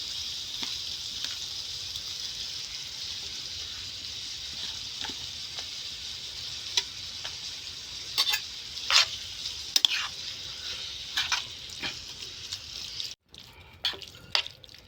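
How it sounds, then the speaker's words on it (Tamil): Chicken coated in chili and coriander powder frying in a pan, a steady close hiss of sizzling oil with scattered pops, drips and scrapes of stirring throughout, no voices heard. "இது கூட நம்ம இந்த சிக்கன் போட்டுக்கலாம் மிளகாத்தூள் தனியாத்தூள்லாம் போட்டு வச்ச சிக்கன்"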